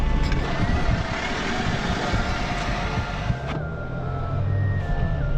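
A repaired 2018 Audi S5 Sportback drives smoothly, a steady engine and road hum heard from inside the cabin, with a faint tonal whine rising and shifting partway through and no speech.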